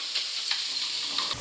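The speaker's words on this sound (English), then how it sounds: "this is cooking away quite nicely" Food frying and caramelizing in a pan gives a steady, bright sizzling hiss with soft crackles throughout, close and continuous, with no voices.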